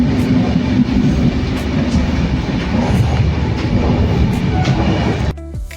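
A train rolls along the rails, heard from inside the carriage: a loud, steady rumble with rhythmic wheel clicks that drops off abruptly near the end.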